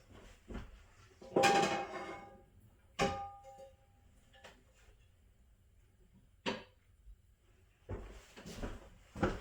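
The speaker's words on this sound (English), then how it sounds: "I gotta go get a pan to be able to cook with." A cooking pan is fetched in a kitchen, heard as scattered clanks, knocks and sliding thuds of cookware being moved and handled, with quiet pauses between the bumps.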